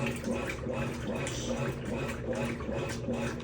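A washing machine filling with warm water for a detergent soak while cleaning couch covers: a steady, moderate rush of running water with faint background sounds throughout.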